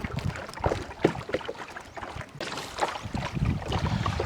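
A boat ride across the clear water of Dawki lake in Meghalaya near the Bangladesh border, with water sloshing, wind buffeting and the low rumble of the boat, steady and close throughout.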